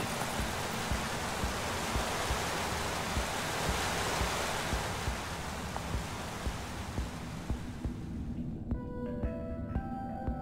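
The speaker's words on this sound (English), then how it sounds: "I first met Reuben near a waterfall like this" Steady roaring wash of falling water from a waterfall in the Minecraft Story Mode game, broad and continuous at close range, easing off near the end as faint musical tones come in.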